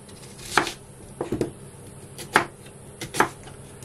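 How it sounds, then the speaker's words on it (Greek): A knife chops through an onion on a cutting board, four distinct sharp cuts at uneven intervals, close and fairly quiet with no talking. "πάμε να κόψουμε ένα κρεμμύδι"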